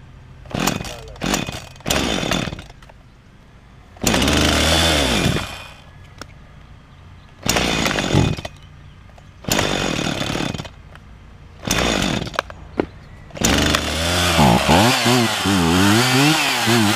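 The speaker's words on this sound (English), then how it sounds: "I'm going to start up the chainsaw" A chainsaw cutting firewood revs in repeated loud bursts with short gaps between, then settles into a longer stretch of running with wavering engine pitch.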